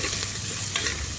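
Onion and spices sauté in a little oil for urad dal, giving a dense close sizzle with brisk stirring throughout.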